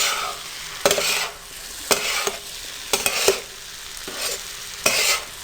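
Tawa pulao mixed in a hot pan: a continuous loud sizzle of frying rice with rhythmic scraping and stirring strokes of the spatula roughly once a second, close and without voices.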